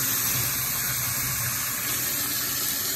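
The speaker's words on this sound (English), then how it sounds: "I rinsed it off in hot water like this" Hot water runs steadily from a tap over salt fish being rinsed, a continuous close gushing splash with no talking.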